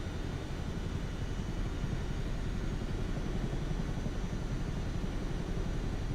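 A Chinook helicopter in Microsoft Flight Simulator 2024 produces a steady, low rumbling engine and rotor drone, continuous and fairly quiet, with no voices.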